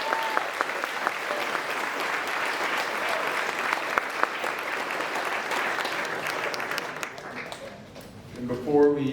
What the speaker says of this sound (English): So if we just take a moment to give them a quick round of applause.